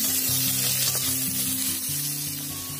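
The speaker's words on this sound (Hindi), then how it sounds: "अब मैं इसमें डाल रही हूँ लौकी" Chopped bottle gourd going into a pan of sizzling onions and soybean, a steady loud frying hiss that continues without pause.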